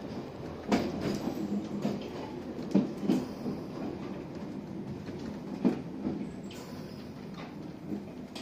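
A London Underground Piccadilly line tube train runs overground toward Cockfosters, heard from inside the carriage as a steady rumble with occasional clicks and clacks from the rails.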